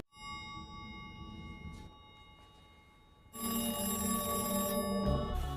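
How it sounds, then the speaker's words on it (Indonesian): A telephone bell rings with steady tonal bursts, quieter at first and then suddenly louder and fuller, close by with no talking. "Jim yang sendirian di rumah mendengar telepon yang berbunyi"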